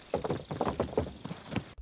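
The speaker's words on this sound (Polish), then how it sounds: "Konie." Horse hooves clip-clop in a medieval role-playing game, a quick uneven run of about a dozen close hoof strikes, then a short pause and one sharp sound at the very end.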